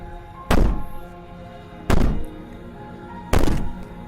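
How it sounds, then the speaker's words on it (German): Three heavy, evenly spaced bangs on a door in the video game Slay The Princess, each a loud booming thud with a short rumbling tail over a quiet background, no talking. "Maybe the banging and wailing will stop if you just don't pay attention to it."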